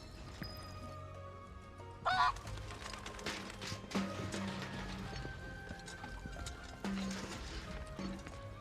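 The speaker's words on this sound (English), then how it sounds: "Pick up your fucking chicken!" Chickens in the Final Fantasy VII Rebirth video game give repeated honking, clucking calls over a busy background of hoof-like clip-clops and scattered game effects, with a couple of louder squawks standing out.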